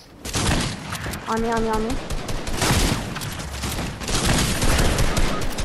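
Laser gun firing in the Fortnite video game, rapid repeated zapping shots in dense bursts across the whole stretch, with people talking over it.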